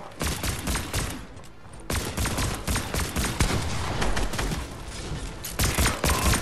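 Dense, rapid gunfire from the video game Fortnite crackles loudly and almost without pause, with bursts overlapping in a sustained barrage and only brief lulls.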